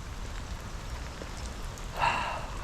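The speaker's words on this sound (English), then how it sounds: "That rain." Rain falls steadily outdoors at a lakeside while pike fishing, making a soft, constant hiss. A slightly louder patter swells briefly near the end.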